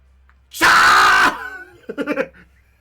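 A human voice imitates a Pokémon's little scream: one loud, strained shriek lasting under a second, followed by a short run of choppy, gasping vocal bursts.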